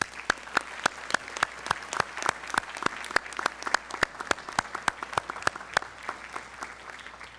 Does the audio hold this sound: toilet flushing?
no